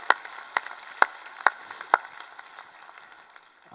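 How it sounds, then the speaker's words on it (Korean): A church congregation at a New Year's Eve service claps in unison: about five sharp, evenly spaced claps roughly half a second apart, then a softer, fading tail. "우리 하나님께 영광의 박수 드리겠습니다."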